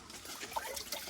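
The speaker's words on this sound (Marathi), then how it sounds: "हे पाटाला पाणी कसं आहे बघा." Water runs along a small irrigation channel near a village by the Radhanagari jungle, making a faint, soft continuous trickle with a few gentle gurgles.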